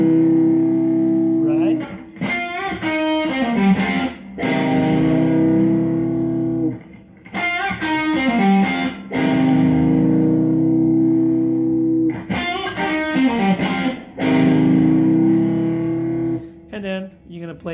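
An overdriven electric guitar plays double stops with half-step bends from a blues tune, in repeated phrases of sustained bent notes and sharp picked attacks.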